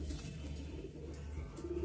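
A male Madrasi pigeon coos softly and close by, a low continuous throaty murmur over faint background noise.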